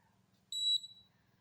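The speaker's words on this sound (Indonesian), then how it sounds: "Dan pastikan alatnya ini bunyi terus ya" A single short high-pitched electronic beep from a small facial treatment device, clear and isolated against a quiet background.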